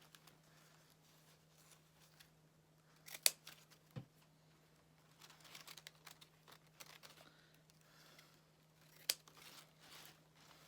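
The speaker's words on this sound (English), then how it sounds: "dovetail the ribbon" Scissors snip a dovetail into the ends of deco mesh wreath ribbon, giving a few quiet, scattered cuts with light rustling between them, one sharp snip standing out near the start and another near the end.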